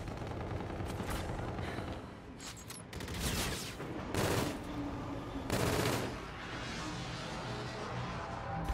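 Rapid automatic gunfire from the first-person shooter Infinite Warfare, loud and close, in sustained bursts with brief pauses and heavier blasts between, no talking.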